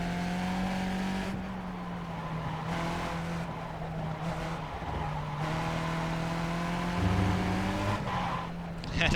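A race car in the iRacing video game skids with its wheels off a NASCAR track, a steady engine drone joined by squealing tires, loud and continuous throughout.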